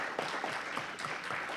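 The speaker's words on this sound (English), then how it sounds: "Yes, please give them a round of applause here." A short round of applause at a city council meeting, steady clapping from a modest crowd in a chamber, moderately loud and even.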